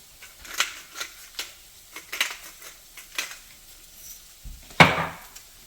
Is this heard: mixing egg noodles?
yes